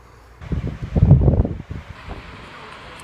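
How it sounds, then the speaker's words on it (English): Gusty wind buffets a microphone outdoors, a loud rumbling burst in the first half that eases to a steady low rush. "It's a little windy, so I apologize if you can't hear very well"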